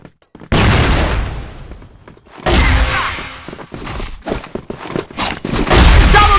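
A flash bomb detonates in a close-quarters shooting video game with a sudden loud burst that decays, followed by further booming blasts and sharp impacts in quick succession.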